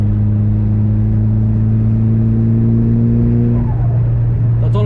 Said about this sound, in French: T'entends la turbine qui charge